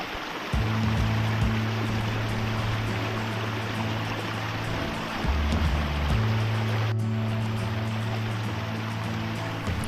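A waterfall stream at Raireshwar fort rushes in a dense, constant wash of flowing water, with a low steady hum running beneath it for most of the stretch.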